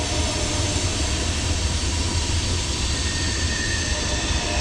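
A train passes near Spring River at a primitive riverside campsite, a constant, loud, broadband rumble and roar that fills the whole stretch without a break or any talk.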